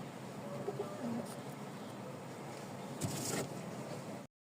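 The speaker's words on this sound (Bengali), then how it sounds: "এই হচ্ছে কবুতর 2 জোড়া" Rajshahi Giribaz pigeons, two pairs, give a few soft coos at close range over a low background hum, with faint rustling and knocks, and the sound cuts off abruptly at the end.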